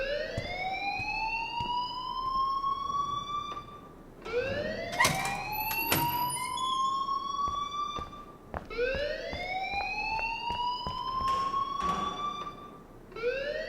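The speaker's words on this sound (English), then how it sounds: "please turn off that alarm since that's your job" School alarm from the video game Life is Strange, a loud rising electronic wail that sweeps upward and repeats in long cycles, with sharp clanks and bursts cutting in partway through.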